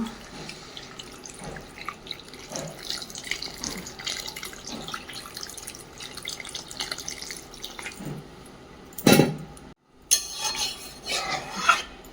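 Water is poured into a pan of potatoes cooked down with spices, giving a short splashing burst near the end. Soft kitchen clatter and stirring noises run underneath before and after it.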